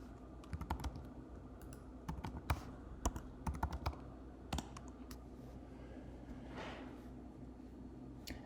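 Keys on a computer keyboard click in short irregular bursts as a username and password are entered, near and crisp, with pauses between runs and no talking.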